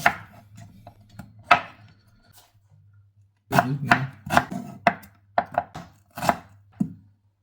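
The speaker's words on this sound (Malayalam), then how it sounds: "സവാളയായി ചോപ്പ് ചെയ്തെടുക്കാം" An onion is chopped on a board with a knife, first a few sharp isolated strikes, a short pause, then a quicker irregular run of close, crisp cuts.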